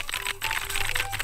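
Fast typing on a keyboard during a typing game: a quick, dense run of sharp key clicks, close and unbroken, with no speech.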